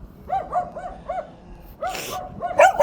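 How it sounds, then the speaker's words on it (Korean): A factory yard dog barks in a quick run of sharp, close barks, pauses, then lets out a couple of louder yips and barks at the end. "네 이놈 짖지 마라"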